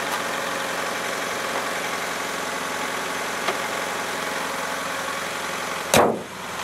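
A Mazda car engine idles steadily and close with a constant low hum, broken near the end by a brief loud burst before settling again.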